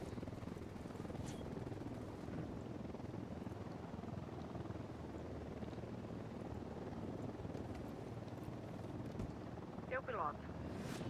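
A quiet, continuous helicopter rotor drone with engine noise from the video game Ghost Recon Wildlands. Brief voice fragments come in near the end.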